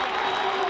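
Crowd at a girls' high school basketball game cheering after a free throw call, a brief dense wash of clapping and voices heard up close and loud throughout.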